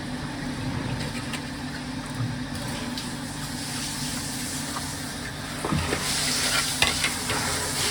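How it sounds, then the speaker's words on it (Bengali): Pumpkin being sautéed in a pan, giving a steady close sizzle and frying hiss with faint stirring scrapes throughout, growing slightly louder and busier toward the end. "তো মিষ্টি কুমড়াটা একটু কষাইয়ে তারপরে ডিমটা দিয়ে দেবো"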